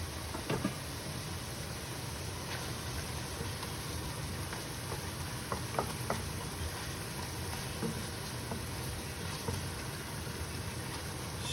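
Boneless pork chops with lemon and thyme frying on high heat in an uncovered pan, an even, rain-like sizzle with scattered faint pops, steady and moderately quiet, no talking.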